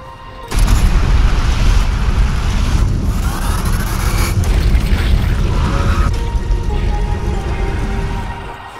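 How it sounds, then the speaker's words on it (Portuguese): A loud, sustained explosion rumble from the video game Zombie Army 4, set in a terror lab and set off by a grenade, bursts in abruptly and roars heavily for several seconds before fading, with no talk. "eu matei o gajo através de uma explosão"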